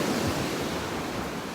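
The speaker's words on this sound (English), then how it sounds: "how beautiful is the lapping of the waves on the beach." Waves lap continuously on a beach, a steady, even wash of surf that stays at one level from start to finish, with no voices.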